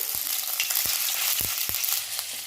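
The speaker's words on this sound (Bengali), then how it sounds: "এর মধ্যে আমি এবারে আদা জিরে বাটাটা দিয়ে দিচ্ছি।" Ginger-cumin paste frying in a pan for begun kasundi, a strong steady sizzle close up, punctuated by several sharp spatula knocks and scrapes against the pan.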